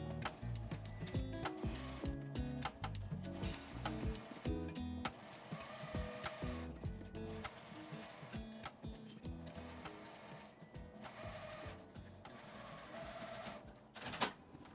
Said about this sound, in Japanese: 端から1センチを縫います。